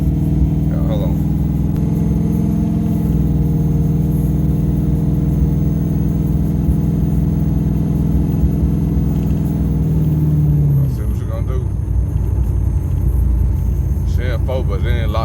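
A junkyard car's engine cruises in fourth-gear overdrive after running in third, a steady loud mid-range rumble and whir throughout, with the drone dropping and loosening near the end.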